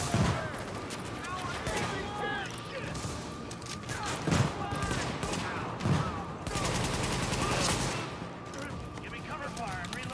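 Heavy exchange of gunfire in The Division, with overlapping automatic bursts and a few louder heavier blasts amid a busy combat mix, and voices speaking under the shooting.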